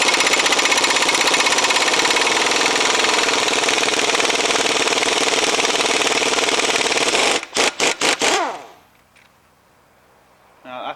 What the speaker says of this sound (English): It makes your life so much easier having an air gun to take off this 32mm.